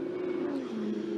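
A Ferrari Challenge race car roars steadily at high revs on the Circuit de Barcelona-Catalunya, with a strong continuous engine drone and a slight pitch drop midway as it passes.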